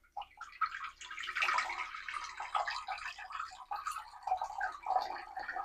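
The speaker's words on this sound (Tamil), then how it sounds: "தேவையான அளவு தண்ணி ஊற்றிக்கலாம்." Water poured into a clay cooking pot (mann chatti) on a gas stove, a continuous splashing pour of several seconds, fairly close and moderately quiet.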